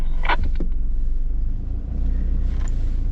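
A four-wheel-drive climbs a steep alpine bush track on Billy Goat Bluff Track, Alpine National Park, Victoria, in low first gear, with a loud, steady, close engine rumble, a brief dip in level, and a few knocks and scrapes early on.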